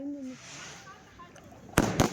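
Fireworks and firecrackers go off outdoors on New Year's night, a sharp double crack of nearby blasts near the end after a distant whistling, with people talking.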